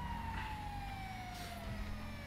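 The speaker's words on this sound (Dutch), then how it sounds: "Mijn sirenes doen het wel." A police car siren wails in the GTA video game, a steady electronic tone sliding gradually downward, moderately loud over engine and traffic rumble.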